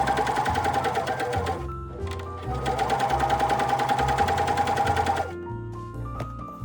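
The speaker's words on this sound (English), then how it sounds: "Sew the shoulder seams together" A sewing machine stitches the shoulder seams of an inside-out bodysuit, running loud and steady in two long bursts with a brief pause between and a slower stop at the end.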